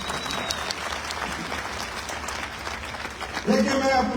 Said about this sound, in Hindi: हम जितने पुराने लोग हैं जोरदार तालियों से